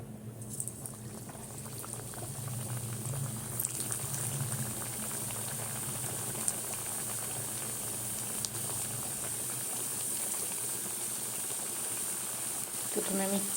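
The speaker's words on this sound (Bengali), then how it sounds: "এবারে ভাজবো। দেখো এখানে তেল চাপিয়েছি, রিফাইন তেলই দিয়েছি, গরম হয়ে গেছে।" Snacks frying in hot refined oil in a pan at home, a steady soft bubbling sizzle that carries on throughout, with a few faint clinks and a voice talking now and then.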